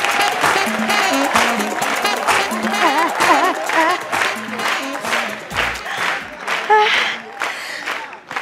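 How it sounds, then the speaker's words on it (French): Audience applause and cheering fill a comedy club as a comedian is welcomed to the stage, a steady loud wash of clapping with crowd voices and a host's voice mixed in throughout. "Beaucoup d'applaudissements pour Aou Sans Façon."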